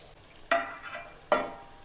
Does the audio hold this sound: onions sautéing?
yes